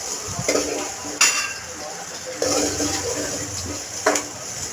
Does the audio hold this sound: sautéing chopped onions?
yes